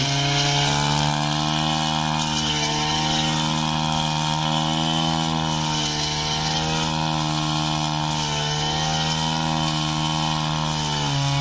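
A used Japanese Mitsubishi TL-20 brush cutter engine held at about 60% throttle, a loud, steady two-stroke buzz with a constant pitch that drones on without a break.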